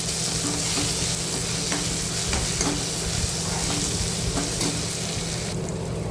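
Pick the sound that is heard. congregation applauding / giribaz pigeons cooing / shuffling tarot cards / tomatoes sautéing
tomatoes sautéing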